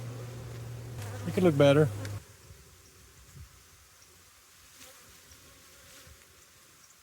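Honey bees buzz steadily around an open hive during a spring inspection, a close, continuous droning hum; someone speaks briefly over it near the start before the buzzing carries on alone.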